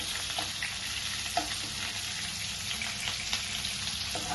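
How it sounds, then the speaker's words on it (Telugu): Green chillies frying in oil for chicken keema egg ponganalu, a steady close hissing sizzle with a few soft stirring knocks. "పచ్చిమిరపకాయలు బాగా వేయాలండి ఆయిల్లో."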